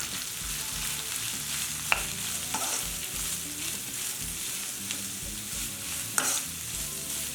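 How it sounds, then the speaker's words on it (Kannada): Capsicum, carrot and onion stir-fry in a hot pan with a steady, loud sizzle, broken by scraping stirs and a few sharp clinks of the spatula, with no talking. "ಸ್ವಲ್ಪ ಕ್ಯಾಪ್ಸಿಕಮ್ಮು, ಕ್ಯಾರೆಟು, ಈರುಳ್ಳಿ ಹಾಕ್ಕೊಳ್ಳೋಣ. ಎಲ್ಲ ಚೆನ್ನಾಗಿ ಮಿಕ್ಸ್ ಮಾಡ್ಕೊಳ್ಳೋಣ."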